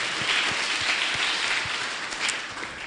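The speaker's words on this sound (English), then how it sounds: "Round of applause, guys." Audience applause at a scholarship award event presided over by Kenya's Education Cabinet Secretary Machogu, a fairly soft, steady wash of clapping heard at a distance.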